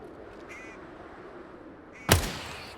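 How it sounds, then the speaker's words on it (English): In the hunting game The Hardcore Ironman, a duck gives a short nasal quack, then after a pause a louder quack arrives together with a sharp, sudden bang, over a quiet outdoor background. "I'm honestly tired of hearing the ducks."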